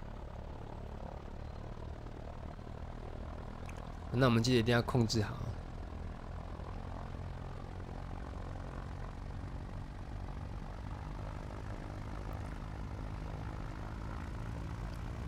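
Propeller aircraft engine in X-Plane 11, a steady loud drone that continues throughout as the throttle is advanced for takeoff, with someone talking briefly over it.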